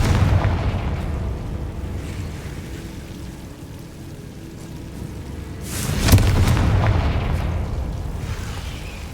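A Confringo explosive spell blast in the Hogwarts Legacy video game: one loud, booming burst near the end that rings on, over a steady low rumble of background ambience.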